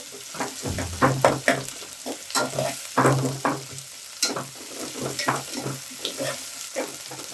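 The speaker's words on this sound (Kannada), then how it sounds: "ಈರುಳ್ಳಿನ ಎಣ್ಣೆಯಲ್ಲೇ ಸ್ವಲ್ಪ ಫ್ರೈ ಮಾಡ್ಕೊಳ್ಳೋಣ" Onion frying in oil with curry leaves for a brinjal curry, bursts of sizzling and scraping stirs coming in an uneven rhythm, close and clear with no talk.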